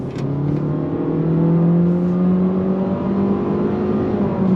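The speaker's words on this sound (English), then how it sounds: "Making a U-turn, on throttle, here we go." 2025 Honda Civic Sport accelerating on throttle after a U-turn, a steady, moderately loud engine drone rising slowly in pitch, heard from inside the car for a few seconds.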